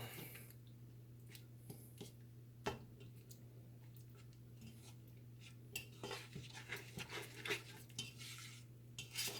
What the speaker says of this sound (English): We're going to keep stirring up the pot a little bit until the cheese melts.